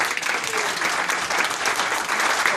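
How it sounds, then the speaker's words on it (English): Sustained audience applause at a symposium, dense clapping from a sizeable crowd, steady and fairly loud throughout with no talk over it. "Round of applause for Sir Chris."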